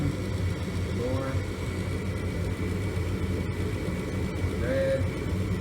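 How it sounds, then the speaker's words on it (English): A furnace blower runs with a steady, loud, low rumbling drone throughout, with a voice speaking over it at times. "Hear it going on. Blower."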